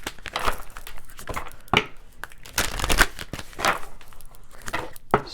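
A deck of tarot cards is shuffled close by, giving repeated papery riffles and crisp card slaps in uneven bursts throughout, with no talk over it.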